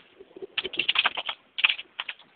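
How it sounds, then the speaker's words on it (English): Computer keyboard typing picked up over an interview microphone, bursts of rapid clicky keystrokes in two clusters, fairly faint and alone. "Dave, your keyboard is coming through over the mic."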